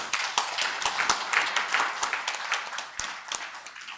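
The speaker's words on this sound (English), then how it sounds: "give a clap to that statement" An audience at a training session claps in response to a statement. The claps are scattered and moderately loud, tapering off toward the end.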